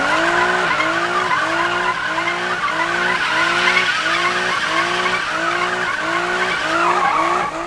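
A BMW M3 GTR race car in the game Need for Speed revs hard through a rapid series of gear changes. The engine note climbs repeatedly in a loud, rhythmic sawtooth pattern with no talking.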